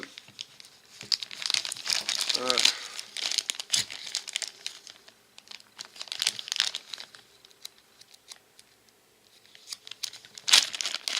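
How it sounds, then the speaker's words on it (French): Crinkly plastic bag from a variable power supply electronics kit being torn open and emptied, with bursts of close crumpling and rustling, brief pauses, and a small rattle of parts spilling out. "on va vider le sachet"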